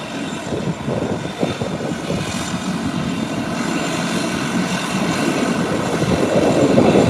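An Embraer 120 turboprop airliner approaches on arrival, its propeller and engine roar fairly loud and steady, swelling gradually as it draws closer.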